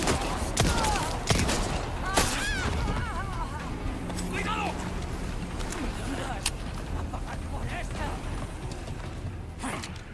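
Gunshots in the Resident Evil 4 boathouse section, with sharp single shots scattered through the clip over game noise and creature groans, while a German-speaking player talks over the action.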